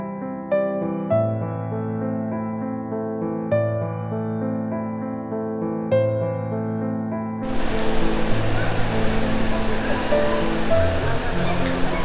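Stream water flowing near the Igatpuri waterfall in a hill station pours in a steady, loud roar that swells sharply partway through, close to the listener, with a droning tonal hum over the first half.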